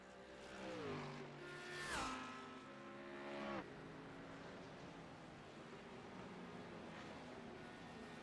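GT3 race cars in a sim racing video game, engines rising and falling in pitch as cars pass close by, with a loud whoosh around two and three and a half seconds before a steadier engine drone continues.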